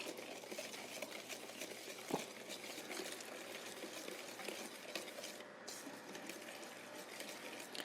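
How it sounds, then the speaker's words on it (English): A spoon slowly stirs chocolate into an egg mixture in a bowl, a soft, continuous swishing and sloshing that stays quiet throughout, with one brief clink partway through. "I'm gonna stir it just so we don't get scrambled eggs."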